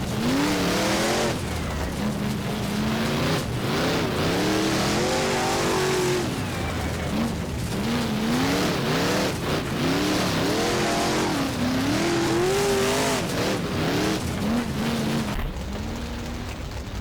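Race cars lapping a dirt oval in the rFactor driving game, with a continuous loud engine drone that rises and falls through revs over several laps, occasional tire squeal and skidding, and no talking.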